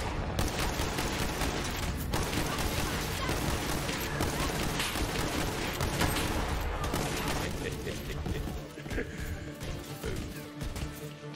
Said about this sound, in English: I hear you shooting at me.